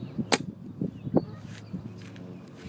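A 2008 MacDev Droid V3 paintball marker fires a few sharp, irregular pops, one loud close shot standing out from softer ones, amid low background rumble.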